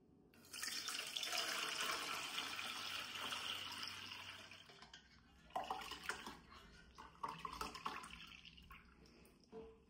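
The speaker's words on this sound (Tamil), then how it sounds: "அதுக்காக வேண்டி நான் இதுக்குள்ள வடிக்க போகிறேன்." Liquid made from wheat flour and milk pours through a strainer, giving a steady, close splashing trickle for several seconds, then a few separate drips and splashes follow, all fairly faint.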